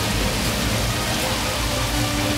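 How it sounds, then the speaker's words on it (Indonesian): A heavy rainstorm at night pours down as a dense, steady, loud wash of noise that fills the whole stretch without a break, and no voices are heard. "Malam itu juga ada badai hujan lebat, dan semua orang berada di tempat perlindungan mereka."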